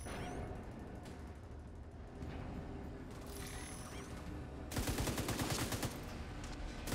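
Rapid bursts of gunfire in The Division 2 on Hardcore Mode, dense and continuous throughout, with a louder, sharper volley of shots near the end.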